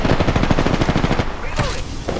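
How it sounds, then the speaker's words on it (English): Dense, rapid bursts of automatic gunfire from the video game Apex Legends rattle loudly and almost without pause, thinning slightly toward the end. "Taking shots. I am taking fire, friends."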